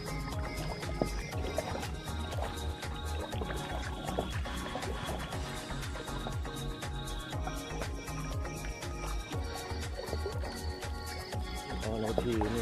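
A rowing boat paddled across water on a farm outing, with steady rhythmic splashes and dripping strokes repeating close by throughout.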